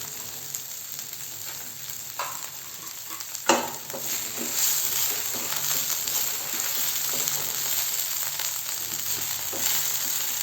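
Broccoli, potato and peas fry in oil over a medium flame, giving a steady close sizzle with occasional scraping stirs and a brief clatter, with no talking.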